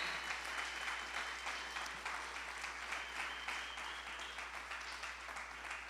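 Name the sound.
audience applause for God Almighty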